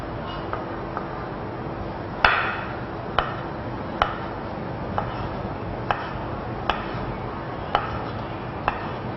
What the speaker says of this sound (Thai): เดี๋ยวหั่นผักคะน้านะคะหั่นได้เลยค่ะ